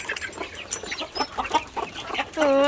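Chickens cluck in a rapid, busy chorus at close range inside a poultry farm, with overlapping calls and a brief louder cry near the end.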